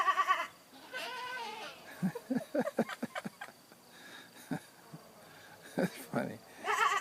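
Goats on a Portuguese island in the Azores bleat in several short, wavering calls at moderate distance, with a person briefly speaking between the cries.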